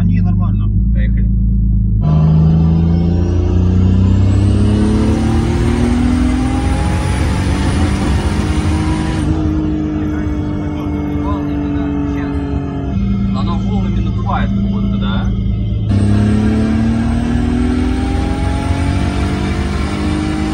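A tuned car engine with a January 5.1 control unit roars through repeated hard accelerations on a test run, rising revs broken by brief gear-change drops, loud and close from inside, with some talk over it.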